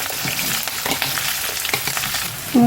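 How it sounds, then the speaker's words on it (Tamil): Onion and curry leaves frying in a pan for chicken varuval, crackling in a dense, close sizzle with stirring scrapes, without talk, and a brief tonal clink at the very end. "வெங்காயம் போட்டு வெங்காயம் இந்த மாதிரி நல்லா செவக்க வணக்கிடுங்க"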